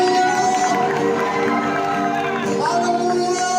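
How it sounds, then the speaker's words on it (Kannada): Congregation applauding at a Christmas church service in Belagavi, a dense continuous wash of clapping and crowd noise filling the hall, steady and loud throughout. "ಕರ್ತನ ಚಪ್ಪಾಳೆ."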